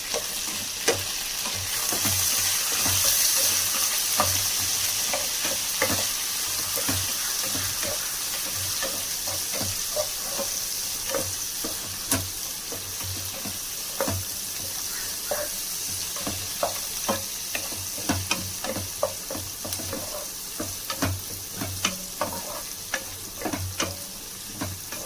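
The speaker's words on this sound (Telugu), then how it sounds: "నెక్స్ట్ ఆనియన్ బాగా ఎర్రగా వచ్చేంత వరకు వేయించుకోవాలి" Onions frying in oil for chicken pulao, a continuous close sizzle punctuated by regular, rhythmic spatula scrapes and taps against the pan.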